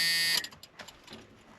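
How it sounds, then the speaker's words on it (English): A warning buzzer in an old Ford Mustang drones loudly for about a third of a second, then cuts off, leaving faint clicks and rustling. "this buzzer is a pain in my ass"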